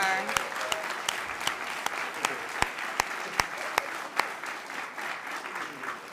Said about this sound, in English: what about a nice applause for those words by Judge Bloom?